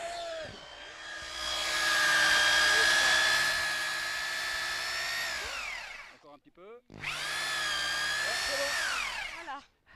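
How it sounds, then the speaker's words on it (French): A power drill bores into the wood of a tree sculpture, whining loudly for several seconds and winding down, then stopping and starting again after a brief pause of rattling. "à la perceuse."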